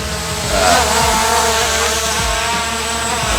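An EXO X7 Ranger drone flies nearby, its propellers making a steady, loud high-pitched buzz with a low rumble underneath that holds throughout, swelling slightly early on, with no talking.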